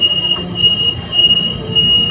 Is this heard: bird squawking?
no